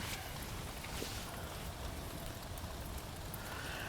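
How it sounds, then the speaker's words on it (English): Steady rain falls outdoors near Tokyo Dome and Akabane, making a constant even hiss with no speech. "You can just listen to the rain."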